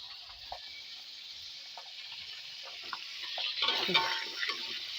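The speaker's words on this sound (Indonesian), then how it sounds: "goreng waluh sama asin" Pumpkin and salted fish fry in a pan, giving off a steady bright sizzle with scattered utensil scrapes and taps, growing a little louder near the end.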